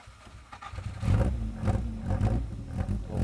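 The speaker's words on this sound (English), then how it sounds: "Oh, big engine." A car engine catches and revs up, a deep throaty rumble that swells twice, close and fairly loud.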